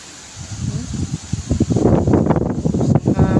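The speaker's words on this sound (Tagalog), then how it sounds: "Lakas ang hangin, oh." Gusts of strong wind buffet the microphone, building from a low rumble into loud, irregular blasts that roar and rustle close by.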